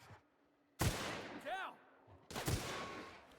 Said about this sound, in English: Like say to shoot the lookout.